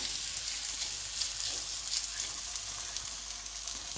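Rice thalipeeth cooking on a hot griddle with a little oil, a continuous bright sizzle and crackle held at even level throughout, close and alone.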